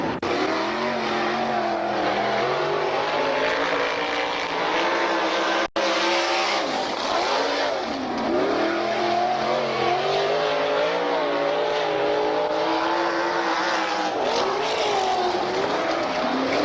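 Race cars circling Manzanita Speedway on a practice night, engines droning loud and steady with rising and falling pitch as they pass, a continuous roar with one sharp click midway.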